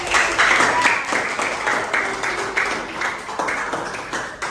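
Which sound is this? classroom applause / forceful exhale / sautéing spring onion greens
classroom applause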